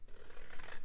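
Scissors snip through a paper treat box template in quick repeated close cuts, crisp and steady over under a second.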